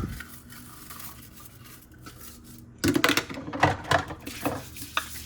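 Dishes are scrubbed with a brush in a single kitchen sink, starting with quiet rubbing before louder clattering of a pot lid and cup alongside scratchy brushing strokes near the end.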